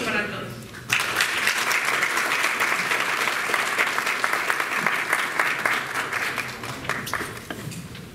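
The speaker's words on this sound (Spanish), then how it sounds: "Un fuerte aplauso para todos" Applause from a seminar audience at a Lima transport integration panel swells in abruptly after a brief moment of talk, then holds as a dense, steady clapping wash that gradually tapers.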